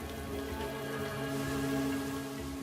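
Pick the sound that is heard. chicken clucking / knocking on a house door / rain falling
rain falling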